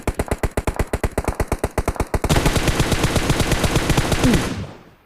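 Automatic gunfire in the mobile shooter PUBG Mobile: a loud, rapid string of evenly spaced shots, then a denser, continuous burst that fades out at the end.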